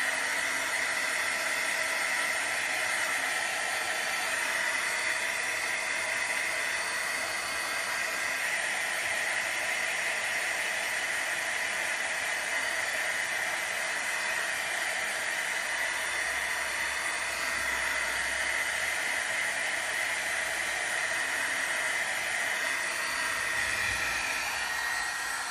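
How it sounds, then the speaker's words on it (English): A heat gun drying gesso on a mint tin blows a loud, constant broadband whoosh of hot air, steady and unbroken throughout. "going to go ahead and use my heat gun to speed up the drying process for the gesso"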